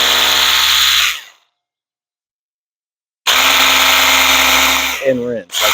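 A Ryobi 18V 320psi cordless power cleaner spraying water: a loud, steady motorized whine with hissing spray, which stops, sits silent for about two seconds, then starts again, with a brief warble near the end.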